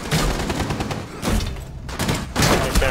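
Rainbow Six Siege gunfire rattles out in loud, close bursts of rapid shots that come in three clusters separated by brief gaps, with heavy thumps mixed in.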